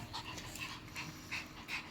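A puppy pants softly in quick, rhythmic breaths, faint and close, with no voices.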